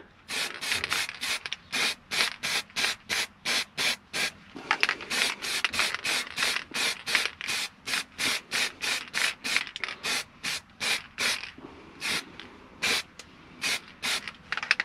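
An aerosol spray paint can sprays in many short, hissing bursts at a steady rhythm, with brief gaps between them, coating the top of a bottle. It sounds close, and no one talks.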